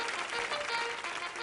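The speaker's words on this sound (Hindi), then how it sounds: "एक बार जोरदार तालियां" Applause at a comedic televised entertainment awards show, a steady, dense wash of clapping held at an even level for a brief stretch with no speech over it.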